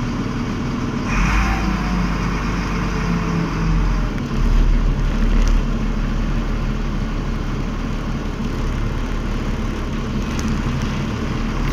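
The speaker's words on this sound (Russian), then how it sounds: "Сейчас греем погрузчик." A Hyundai SL765 front loader warming up its engine and hydraulics on a snowy site: a steady, low diesel idle rumbling throughout, with a couple of brief revs and faint clanks.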